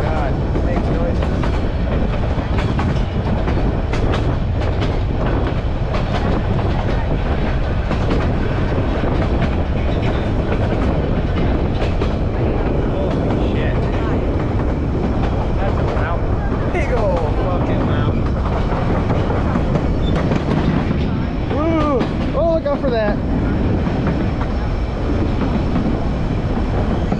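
The White Pass train in Alaska rumbles steadily along its rails, approaching an old bridge, with continuous loud clatter, rattling and occasional high metallic squeals from the wheels throughout.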